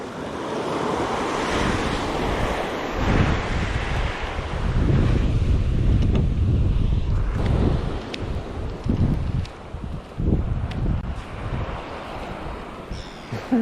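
Strong surf and gusting wind on a windy coast in the Whangarei District, with waves crashing in loud, continuous surges and the wind buffeting the microphone throughout.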